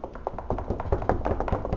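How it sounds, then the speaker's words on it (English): A knock on a door, heard as a quick run of light, close taps repeated at an uneven pace over a couple of seconds, with no voices. "Let's hear a little knock."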